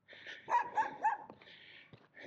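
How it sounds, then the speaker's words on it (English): A puppy barks from behind a fence on a street in León, Nicaragua, giving three quick, high yaps in a row followed by quieter whimpering sounds, moderately near with faint street ambience. "we have a puppy over here ready to bark at us from the fence."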